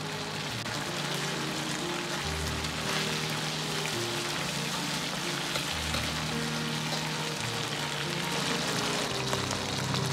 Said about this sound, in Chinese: 接着翻面，再煎另一面